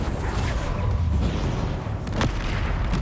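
A Confringo blasting spell explodes in the Hogwarts Legacy video game as a heavy booming roar, with a sharp crack near the end against a dense low rumble of battle noise and no voices.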